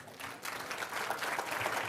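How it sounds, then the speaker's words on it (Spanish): Applause from an audience at an evening lecture, a dense, steady rush of clapping that swells after a brief quieter start and stays loud to the end. "con ustedes, el licenciado Villasana, a quien pido un fuerte aplauso."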